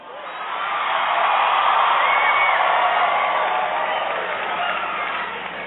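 Crowd cheering and whooping at a Barack Obama rally in Muncie, Indiana, a dense sustained roar that swells and holds for several seconds before easing slightly.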